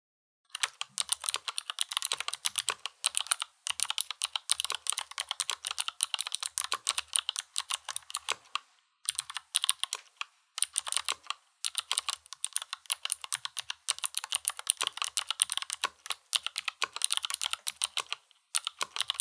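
Fast continuous typing on a GH60 mechanical keyboard fitted with clicky Cherristotle switches gives dense, crisp clicks with a few brief pauses, close up, and nobody speaks.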